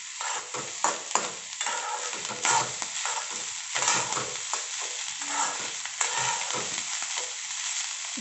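Leftover cooked rice frying in ghee in a pan, a steady close sizzle with scraping stir strokes breaking through at uneven intervals and no voices.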